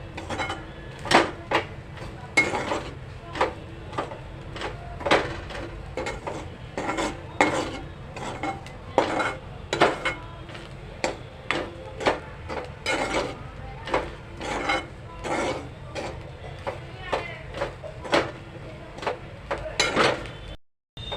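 Onion and coconut roast in a pan while a spoon or spatula scrapes and knocks against the metal in a quick, fairly regular rhythm of sharp strokes, close and clear over a low background.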